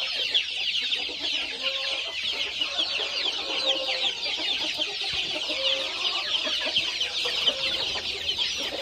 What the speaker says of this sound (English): Look at these jungle fowl.